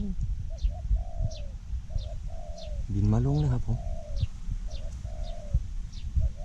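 Spotted doves coo in a steady, repeating rhythm, one of them a decoy bird, with faint chirps scattered around them outdoors. Midway a voice briefly talks close up over the calls.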